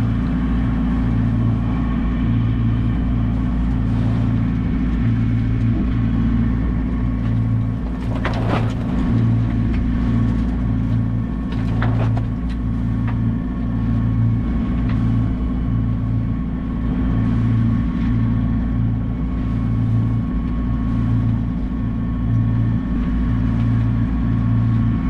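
A sailboat motoring under its engine with the mainsail up, a steady close diesel drone with a pulsing low throb running throughout, loud and unbroken, with occasional faint knocks and rustles on board.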